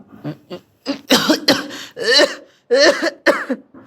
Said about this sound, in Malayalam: അതെന്താ ഇപ്പൊ ഇങ്ങനൊരു ചുമ